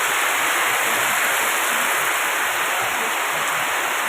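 Rainwater rushes down a hillside in a loud, continuous, even roar of flowing water, with no pauses or voices.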